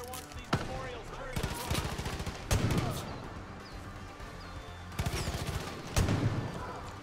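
Pistol shots in the open-world shooter Far Cry 5, loud sharp reports fired in quick clusters, with a player talking over the shooting.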